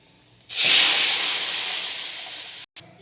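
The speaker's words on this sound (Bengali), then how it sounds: "খানিক রসুন নিয়ে গ্রেট করে আমি ভাজতে দিয়েছি। এবার জল দিয়ে দেবো।" Water is poured into a pan of grated garlic frying in oil, setting off a sudden loud steam hiss that fades slowly and then cuts out briefly.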